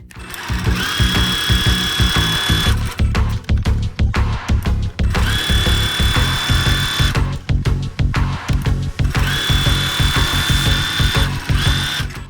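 A sewing machine stitches a fabric bag in rapid, loud mechanical bursts, with a thin motor whine under the needle's clatter, running in several runs separated by short stops, close by.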